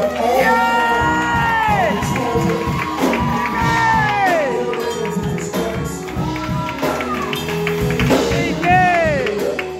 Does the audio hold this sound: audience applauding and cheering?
yes